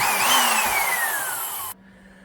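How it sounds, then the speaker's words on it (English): A Makita Hole Hawg stud and joist drill whines loudly as it bores, its motor pitch sliding slowly downward under load before cutting off abruptly, leaving a faint hum. "let's do some drilling"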